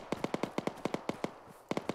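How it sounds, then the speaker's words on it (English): Rapid bursts of sharp gunshots crack in quick succession, a rhythmic string of about a dozen reports with a short pause before a final few. "Gunshots direct front."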